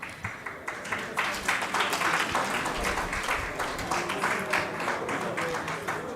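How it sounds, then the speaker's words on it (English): An audience at a vegan festival conference claps, starting with a few sparse claps that swell into sustained, even applause from a sizable crowd, heard alone without talk. "A warm applause for everybody,"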